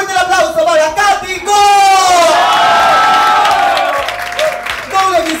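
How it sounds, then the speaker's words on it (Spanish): A television variety show audience roars with sustained cheering, whoops and applause for a Britney Spears look-alike performer, loud and dense throughout, with excited voices shouting over the clapping. "Tiene que ser fuerte el aplauso para Katy"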